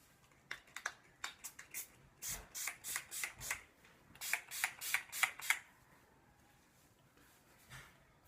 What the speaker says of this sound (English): I'm going to take this sea salt spray